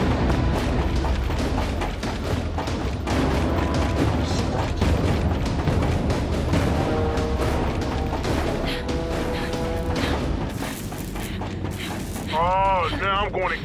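Grenade blast in the Gears 5 video game, a dense booming burst buried in a continuous wall of gunfire, rumble and game effects, with a voice heard over the chaos.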